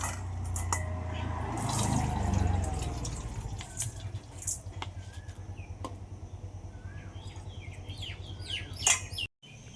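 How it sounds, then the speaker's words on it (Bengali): Water drains from soaked Gobindobhog rice through a strainer in a kitchen, a close trickling and dripping with scattered clinks and scrapes, some faint chirping in the background. "একটা ছাকুনি নিয়েছি এই ছাঁকনি দিয়ে জলটা ঝরিয়ে নেবো ভালো করে"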